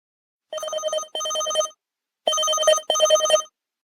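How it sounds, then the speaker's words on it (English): Two pairs of short electronic chime bursts from a PageConnect new-message notification, clear and fairly loud, separated by a pause. "you may hear an audible tone based on what your settings are"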